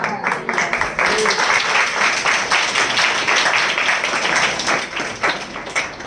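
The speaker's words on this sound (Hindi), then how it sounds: "थोड़ी तालियां बजा के रखो" A church congregation claps during a Hindi sermon, a loud, dense, sustained round of applause with a faint voice underneath at times.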